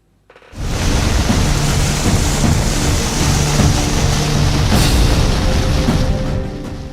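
Heavy rain pours down steadily in a dense, loud roar, with a deep rumble of thunder running underneath and a sharper crack near the end.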